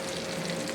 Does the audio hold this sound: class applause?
no